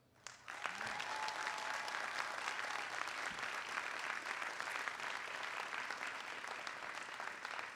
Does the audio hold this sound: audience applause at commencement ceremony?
yes